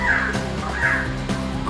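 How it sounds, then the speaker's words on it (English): Loud, harsh caws from a crow-like bird nearby in a Costa Rican forest, three or four calls repeating in quick succession with no talking. "Just look at these birds, they're so bloody beautiful"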